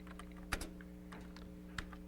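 Code being typed on a computer keyboard in a lecture hall: a few faint, scattered key clicks over a quiet hum, with a couple of sharper taps standing out.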